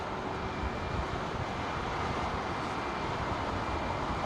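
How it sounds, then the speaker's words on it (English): An aircraft departing from runway 27R at London Heathrow Airport, a steady broadband engine roar with a faint whine, heard at a distance and mixed with wind noise. "Here comes our first departure from 27 right."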